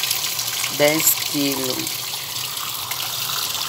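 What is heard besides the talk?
water filling a Suggar Lavamax washing tub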